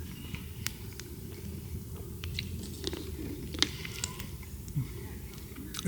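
Someone eats chili from a bowl beside a campfire at a Yellowstone campground, with soft, close chewing and occasional crunchy bites over a low outdoor background.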